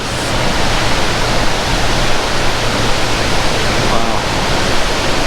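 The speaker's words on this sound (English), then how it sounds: "that was one amazing waterfall" Newbie Young Falls, a waterfall in the Southern Sierra's Kern River Valley, roars as a steady, loud broadband rush of falling water that fills the whole stretch without a break.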